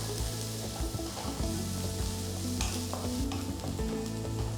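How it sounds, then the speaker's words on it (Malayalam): A medium-size sliced onion sautés in a pan for pork varattiyathu, a steady close sizzle with constant stirring and soft scraping throughout. "ഒരു മീഡിയം സൈസ് സവാള സ്ലൈസ് ചെയ്തത് നന്നായിട്ടൊന്ന് വഴറ്റിയെടുക്കാം."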